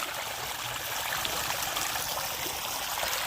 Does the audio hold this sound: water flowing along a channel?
yes